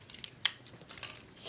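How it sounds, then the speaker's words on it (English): Adhesive tape is pulled and pressed onto the sides of a folded paper pyramid, making a few quick, light crinkles and one sharp ripping snap in a quiet room. "So, put tape on all sides."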